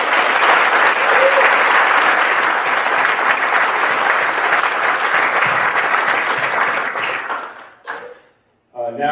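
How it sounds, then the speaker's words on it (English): A banquet audience honoring award winners gives a loud, sustained round of applause that fades toward the end, with a few brief voices coming through as it dies away. "One final round of applause for all."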